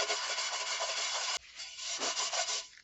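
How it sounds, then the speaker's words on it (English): The burnt bottom of a pot is scrubbed hard, producing loud, close abrasive rasping in continuous strokes, with a brief break before the scrubbing resumes. "So we're going to scrub the second one."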